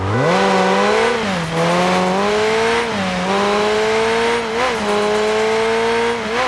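A loud video game car engine in Car Parking Multiplayer drones steadily, its pitch rising and dipping as the revs shift, with no talking.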